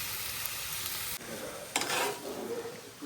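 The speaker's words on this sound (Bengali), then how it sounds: "শাকগুলো সুন্দরভাবে আমি বাগার দিছি, এই যে দেখেন বেশি করে রসুন দিয়েছি, কাঁচা মরিচ, তার সাথে আছে পেঁয়াজ।" Leafy greens frying with plenty of garlic, green chili and onion, a dense hiss of oil that cuts out briefly and then surges with a louder burst of sizzling as ingredients are stirred, close and without speech.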